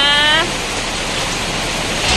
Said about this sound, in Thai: ฝนตกค่ะฝนตกนะคะ